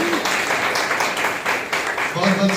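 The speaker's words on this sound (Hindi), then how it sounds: "नरसिंहपुर से जोरदार ताली बजाइए" A church congregation at a New Year's Eve service applauds with dense, sustained clapping that fills the room, while a voice speaks over it.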